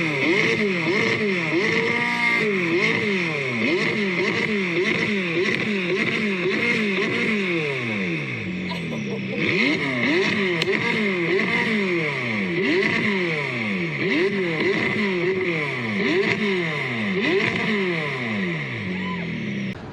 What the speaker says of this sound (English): I'll play you a clip right now of me just revving it. This is with downpipe, so this is upgraded exhaust at low RPMs.